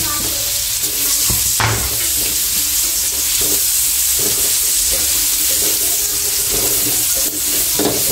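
Onions sizzle steadily while being stir-fried in a pan for a home-cooked beef steak dish. The frying hiss stays loud and continuous, with occasional clinks and scrapes of a utensil stirring.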